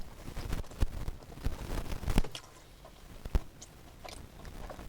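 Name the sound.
biting and crunching a pepperoni pizza slice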